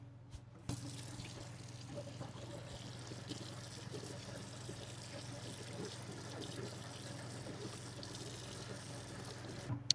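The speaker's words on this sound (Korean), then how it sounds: "이제 물로 한번 헹궈 주겠습니다." Cleaned fresh squid rinsed under a running kitchen tap: a steady, soft rush of flowing water into a sink with faint splashing, continuous throughout at low level.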